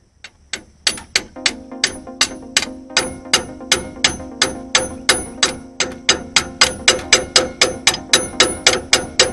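A hammer taps repeatedly on the underside of a screw near transmission coolant tubing under a vehicle, a steady run of roughly two dozen sharp metallic strikes, close and loud, with a faint ringing hum between blows.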